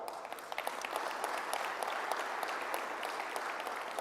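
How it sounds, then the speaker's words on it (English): Audience at the World Car of the Year awards ceremony applauding, a dense, continuous wash of many hands clapping at steady loudness throughout, heard from within the room. "Big round of applause for this great crowd"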